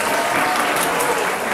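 Children and parents at a church elementary winter Bible school evening service applaud together, a loud, thick burst of clapping from a crowd filling the room throughout.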